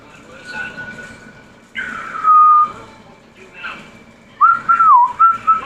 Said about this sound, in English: I would always whistle that song.